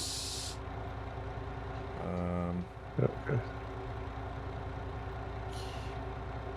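Truck engine idling steadily in Farming Simulator 25, with a short burst of air-brake hiss at the start and again near the end, a brief tonal whine midway, and a voice speaking briefly.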